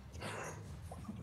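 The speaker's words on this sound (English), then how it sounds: "Someone's dog is dying in the background." A dog whimpers faintly in the background, a brief, thin whine over a low, muffled room hum with no talking.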